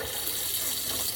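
Tap water runs steadily into a sink while a pork roast is rinsed and trimmed of fat for tamales, a continuous close broadband splash with no talk over it.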